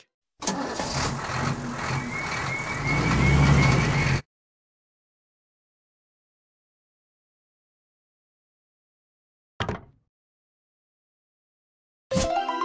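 A tow truck in a kids' toy-fixing game starts up with an engine rumble that lasts about four seconds, then cuts to silence. Two short bursts of game sound follow later.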